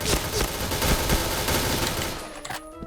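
Rapid bursts of gunfire in the Point Blank first-person shooter, loud and close, with dense overlapping shots for over two seconds before trailing off into a few scattered reports.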